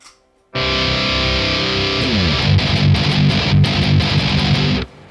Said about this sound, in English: let's make the blood-splattered heavy metal guitar sound like a blood-splattered heavy metal guitar